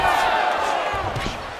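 An arena crowd roars in UFC 5 during a simulated Joe Lauzon versus Jens Pulver fight, a loud sustained wash of cheering and yelling with a commentator-like voice mixed in.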